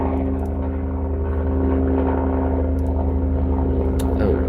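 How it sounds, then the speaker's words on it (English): A helicopter drones in the background, a steady low rotor hum with strong tonal bands running continuously and loudly throughout, with no speech over it. "Apologies for the helicopter in the background."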